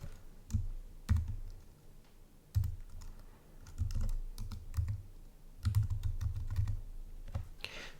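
Someone types on a computer keyboard, entering a spreadsheet formula. Soft, close key clicks come in irregular bursts with short pauses between them, and no talking is heard.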